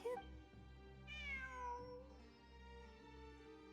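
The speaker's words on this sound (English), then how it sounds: "It really is a cat." A cat meows in the video game Genshin Impact: one short, clear meow, then a longer, higher meow that slides downward, close and fairly loud.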